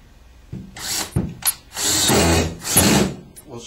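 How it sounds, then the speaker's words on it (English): A power drill drives screws through an anti-tip bracket into the floor, several short whirring bursts rising in pitch, close and fairly loud. "we'll screw the bracket in place"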